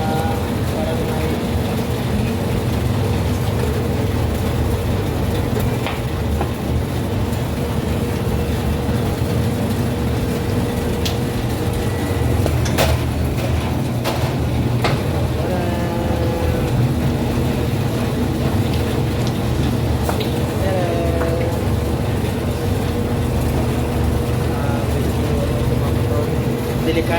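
A large machine runs steadily in a burger bun bakery, a loud continuous low hum and rumble with occasional clanks, while people talk over it.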